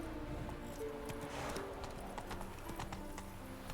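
Horse hooves clip-clop steadily at a riding pace in The Witcher 3: Wild Hunt. A neigh comes through faintly over a low game ambience, with no voices.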